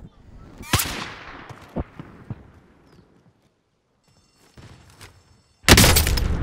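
Gunfire in a shooter video game: a few sharp, separated shots with decaying tails, then a quiet gap and a loud burst of blasts at the end.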